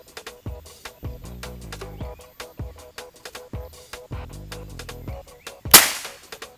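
Black Monkey 360cc motorcycle revving from the left side, sharp repeated throttle blips with a rough burbling exhaust, ending in one loud cracking backfire shot.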